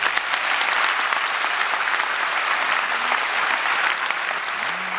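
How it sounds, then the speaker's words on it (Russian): A hall audience at the Bulat Okudzhava prize award ceremony gives steady, full applause for several seconds, fading a little near the end as a voice begins to sound. "Аплодисменты."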